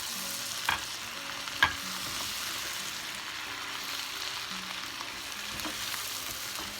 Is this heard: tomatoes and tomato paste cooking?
yes